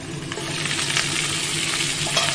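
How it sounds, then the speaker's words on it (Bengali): Prawns fry in a kadai with a loud, continuous sizzle and crackle, close up and steady, with no talking. "এতে আমি চিংড়ি মাছটা ভেজে নেব"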